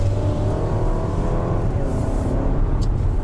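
A Jeep Cherokee SUV's engine revs hard under full-throttle acceleration, a steady loud drone with rising harmonics and no talk over it.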